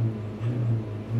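2012 Ford Transit 2.2 TDCi diesel engine with an airflow fault code, revved briefly: a close, steady low rumble that swells and eases within about a second, no voices.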